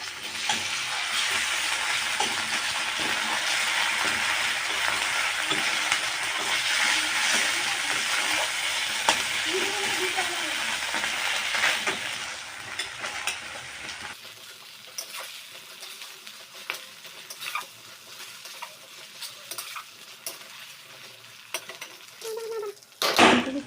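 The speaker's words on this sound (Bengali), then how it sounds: "আদা রসুনগুলো লাল লাল করে ভাজা হয়ে গেছে" Ginger-garlic paste cooks with onion puree and dried chili paste in a pan: a loud, dense sizzle for about fourteen seconds, then quieter sputtering with scattered clinks and scraping, and no voices.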